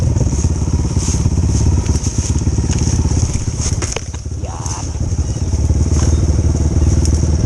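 A trail motorcycle rumbling close by as it is pushed downhill along rough ground, with crunching, clattering trail noise and a brief voice partway through.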